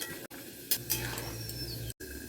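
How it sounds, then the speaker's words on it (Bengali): Pomfret fish curry with potato and eggplant being stirred in a pan, a steady scraping stir over a soft sizzle, with a couple of brief clinks and two short gaps where the sound cuts out. "তরকারিটা একটু নাড়িয়ে দেবো"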